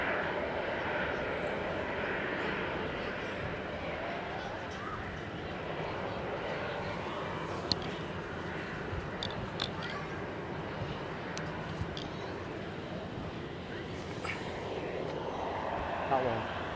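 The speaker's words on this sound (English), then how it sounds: "that KLM we saw come in a few minutes ago, he's going to come across the shot in a minute" A KLM airliner arrives at Zurich airport, its engines a steady, broad, distant roar that runs throughout, while people talk over it.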